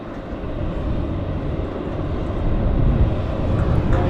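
A Dash 8 turboprop taxis at Vancouver airport, its broad engine rumble and hiss holding steady at a distance and swelling slightly toward the end, heard alone without talk.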